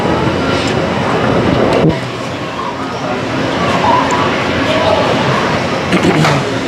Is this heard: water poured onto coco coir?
no